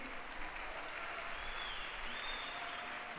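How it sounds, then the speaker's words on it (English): Faint, distant applause from an event audience for the Ola Electric team, a steady wash of clapping at low level with no break. "Can we have a huge round of applause for the Ola Electric team?"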